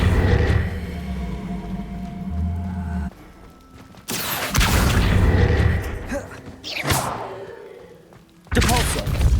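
A spell being cast in Hogwarts Legacy, heard as several loud bursts and whooshing thuds separated by brief quieter gaps.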